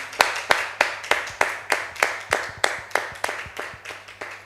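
A church congregation claps in a steady, even rhythm to acclaim Jesus: about a dozen crisp, close group claps, with no talking over them.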